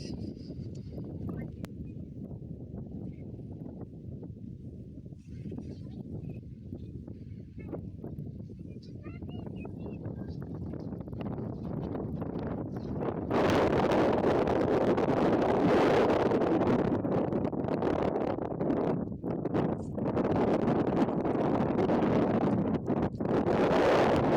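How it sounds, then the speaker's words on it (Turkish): Wind buffets the microphone with low rumbling gusts on a Black Sea highland pasture near Kümbet, growing much stronger and rougher halfway through, with faint voices underneath. "belki rüzgarın sesi kamerada çıkacaktır. Bayağı esiyor."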